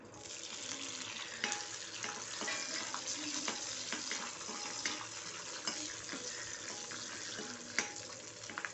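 Onions sauté in a hot pan for a spicy onion chutney, making a continuous close frying hiss with occasional faint stirring taps throughout.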